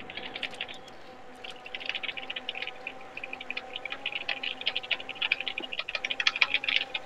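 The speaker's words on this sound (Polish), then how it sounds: "w tą klawiaturę ktoś napieprza" A computer keyboard being pounded hard, fast irregular clacking keystrokes running continuously and fairly close over a low steady hum, with no voices.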